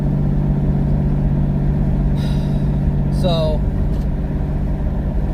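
A twin-turbo VR4 V6 Mustang engine rumbles steadily under acceleration, and a brief rising turbo whistle cuts through around the middle, with a short spoken word over the drone.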